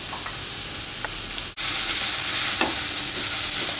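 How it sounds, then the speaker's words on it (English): Four finely chopped onions roasting in hot oil in a pan, a steady loud sizzle with occasional stirring scrapes, broken by a brief dip before the frying hiss resumes. "It will almost take 5 minutes to roast these onions"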